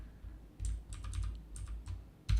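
Fingers tap out React code on a computer keyboard in quick, close, uneven bursts of keystrokes, with no talking.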